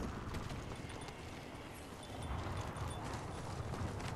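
Horse hooves clip-clop in the video game Ghost of Tsushima, a steady, fairly dense run of soft hoofbeats under a constant broadband ambient wash, moderately loud throughout.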